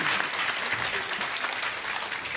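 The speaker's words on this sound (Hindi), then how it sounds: "अब एक बार मेरे सम्मान में ताली बजाइए।" A crowd at a Hindi poetry recital applauds, giving dense, continuous clapping that stays loud and even for the whole stretch with no voices on top.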